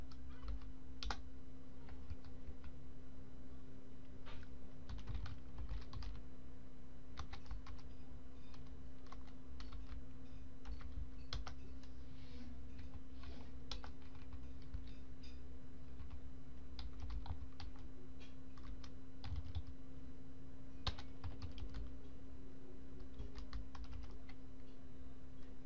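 Keyboard typing while entering a domain and Ubuntu server IP address, steady irregular clicks and key taps running throughout at close range over a constant low electrical hum, with no talking.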